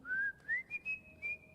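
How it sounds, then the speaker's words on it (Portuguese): A person whistles a cheerful melody, four or five clear, close notes that rise and hold in short phrases with brief gaps between them, alone and without speech. "Whenever I feel afraid, I whistle a happy tune."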